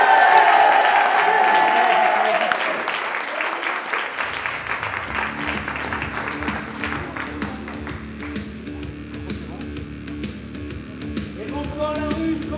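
A concert audience applauds the opening act, loud dense clapping at first that fades after a few seconds into quieter scattered claps with music starting underneath.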